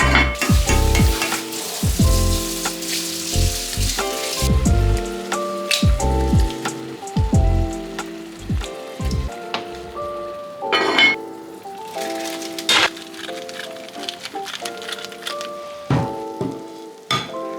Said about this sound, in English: And then some tomato paste. Let that cook for a few more minutes.